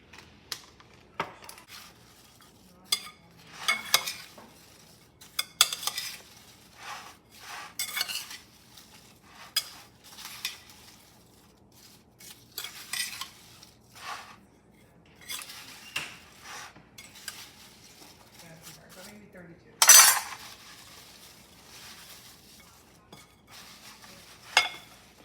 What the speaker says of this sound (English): then we're just going to toss it and coat those